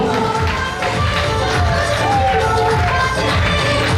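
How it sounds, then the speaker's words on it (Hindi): A large audience claps in a dense, sustained wash of applause at the AWPL Jashan-e-Kuchaman event, greeting an honoree. Some cheering and tonal background sound mix in, and the applause stays steady and loud for the whole stretch. "एक लखपति, शानदार तालियां।"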